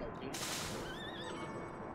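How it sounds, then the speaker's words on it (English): A horse neighs in the Bloodstained: Ritual of the Night video game: one wavering whinny rises briefly over a dense, noisy game background. "So they're freaking horses, man."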